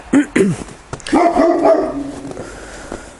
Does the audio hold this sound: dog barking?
yes